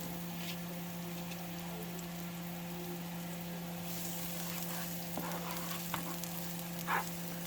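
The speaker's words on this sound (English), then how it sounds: "So I'm going to start to saute." Garlic sizzles in hot oil in a pan, a soft, steady frying hiss with occasional faint pops and stirring scrapes, heard alone at a low level.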